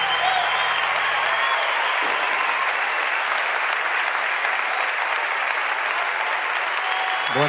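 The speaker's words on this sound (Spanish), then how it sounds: "Un aplauso para Abel, más fuerte." Loud, sustained applause from an audience at a live unplugged concert, continuous clapping filling the whole stretch with no break, close and dense, after music stops at the start.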